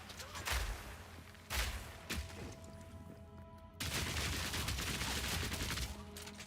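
Grenade explosions and heavy combat in Path of Exile 2, with loud broadband bursts near the start, around 1.5 seconds and a sustained dense barrage from about 3.8 seconds on, crackling and booming together.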